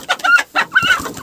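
Chickens and a rooster clucking in a farmyard, a few close, quick throaty clucks and short calls in a brief burst.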